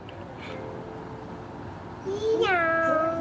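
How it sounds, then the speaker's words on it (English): A cat lets out a short, rising-then-falling meow near the end, fairly faint against a quiet background hiss, with a soft hint of a voice before it. "Meow. That's a cat."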